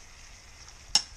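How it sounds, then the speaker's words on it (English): Shrimp frying in a pan for garlic butter shrimp give off a faint steady sizzle, broken once by a single sharp click of a utensil against the pan, with no talking. "You want to cook the shrimp until it's like a pinkish"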